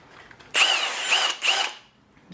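A twisty step drill bit cuts through a hole, giving a brief high-pitched whining bite in three quick bursts over about a second, close and fairly loud, then quiet.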